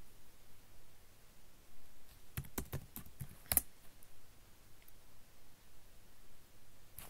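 A computer keyboard being typed on while entering a sudo password at a GNU/Linux terminal: a short burst of light, quick keystroke clicks with one sharper tap, then quiet room tone.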